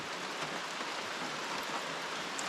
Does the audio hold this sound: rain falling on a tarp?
yes